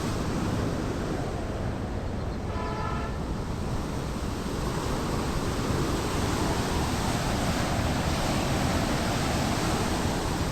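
Floodwater at Harike Pattan released at high pressure, a loud, steady broadband roar of rushing water that fills the whole stretch without a break, with no voices over it.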